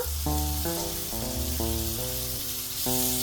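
Tomatoes sizzle in a hot pan as the base for an Ethiopian egg firfir, a steady close frying hiss running throughout beneath a melodic line of background music.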